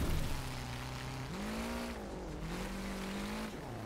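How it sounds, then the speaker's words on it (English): A damaged car in the Wreckfest racing game drones with a loud, continuous engine tone whose pitch steps up and down over a rough, noisy background. "My car's making a sound."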